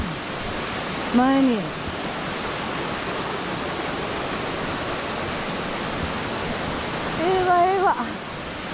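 The Hishi no Taki waterfall in Wakayama pours in a steady, dense roar of falling water that fills the whole stretch, while people speak briefly over it near the start and again near the end.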